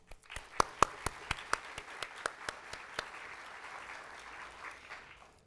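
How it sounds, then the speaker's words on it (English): Applause from an audience at a college community celebration, starting with distinct sharp claps that soon thin into quieter, scattered clapping across the room, fairly faint overall. "Her leadership deserves a special round of applause."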